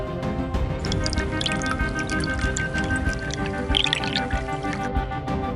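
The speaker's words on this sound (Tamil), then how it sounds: "மச்சான் சரக்கு ஊத்து மச்சான்" Liquor pours into a glass with a bubbling, trickling gurgle and scattered drips, fairly close and continuous, over a low hum of background tones.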